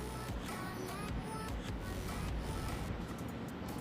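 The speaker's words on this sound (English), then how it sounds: "I will turn off the motor, it is making sound" A small electric motor in a microcontroller-based motor monitoring and protection setup runs with a steady low hum and faint mechanical whine, quiet and continuous throughout with no talking.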